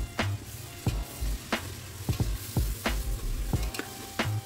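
Onions sautéing in a pan for chicken biryani: a continuous close sizzle and crackle, broken by regular spoon strokes against the pan every half second or so.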